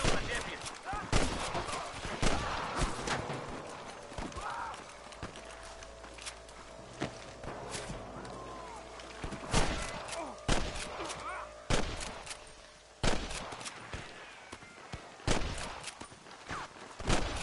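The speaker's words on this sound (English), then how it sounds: "I can hear more gunshot." Gunfire in Red Dead Redemption: scattered sharp shots and volleys cracking at irregular intervals, some loud and close, others fainter, with footsteps and movement between them.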